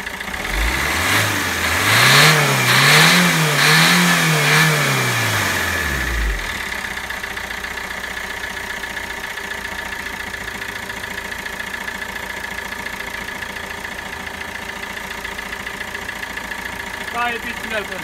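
A Fiat 1.3 Multijet diesel engine is revved up and down a few times in quick swells, then settles into a steady idle for the rest, close and loud, with speech heard at times.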